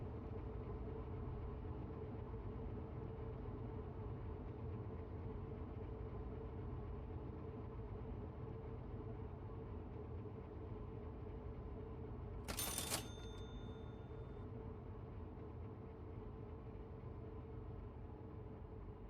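A freight train coasts along in the Loco Shortline game, giving a continuous low rumbling drone of rolling wagons. One brief bright metallic clank rings out partway through.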